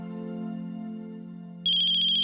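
A steady electronic hum gives way to a mobile phone ringtone, a bright, repeating trilling melody starting abruptly and ringing loudly up close.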